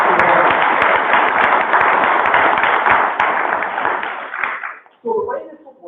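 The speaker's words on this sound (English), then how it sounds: "So let's just give them a little round of applause before we get started" Audience applause for candidates at a local meet-the-candidates event, a dense, steady patter of many hands that thins and fades after about four seconds before a voice starts talking.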